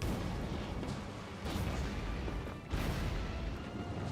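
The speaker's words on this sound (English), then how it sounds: "Some of these just explode with an absolute explosion of bullshit going on." Cliffs exploding in the video game Factorio: a dense barrage of booming blasts over a loud, continuous rumble, with sharp bursts near 1.5 and 2.7 seconds and no voices.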